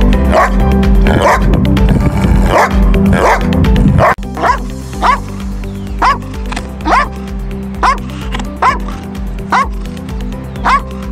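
A Giant Schnauzer and a Belgian Malinois bark loudly and close by. A dense, overlapping run of barks comes first, then sharper single barks repeat at a steady rhythm.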